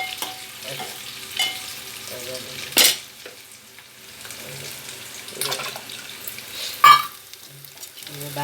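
Steady sizzling in a hot pan as black gram lentils are added to a tempering, with occasional stirring scrapes and clinks, continuing throughout at a moderate, close level.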